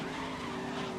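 A car drifting in a racing video game on Stadia, its tires skidding in one loud, continuous squeal over a steady engine roar, close and without pause.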